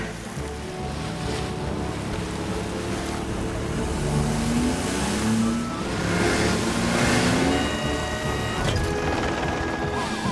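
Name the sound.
cartoon car driving toward the beach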